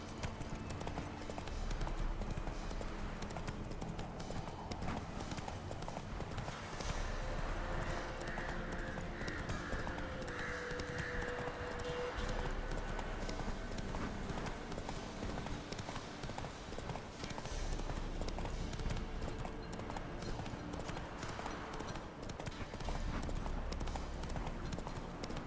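The horse Roach in The Witcher 3 video game gallops with a continuous rhythmic clip-clop of hooves, moderately loud and steady throughout amid faint background ambience.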